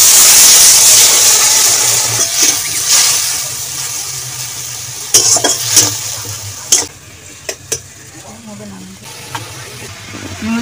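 Water is poured into a hot pan while duck egg chokha cooks, giving a loud hiss and sizzle that fades, with scattered clinks and stirring, under a woman's speech.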